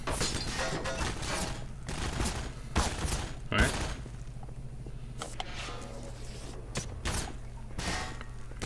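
Enemy gunfire in the Half-Life 2 shooter game: repeated sharp bursts of shots crack through the mix, near and loud, scattered across the stretch with a low hum beneath and some speech.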